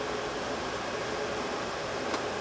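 Loud, steady broadband roar of cooling fans in a server lab around a fully loaded 60-bay NETGEAR ReadyNAS 4360, continuous and unchanging like white noise.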